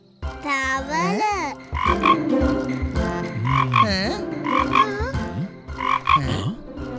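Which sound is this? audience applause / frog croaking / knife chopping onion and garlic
frog croaking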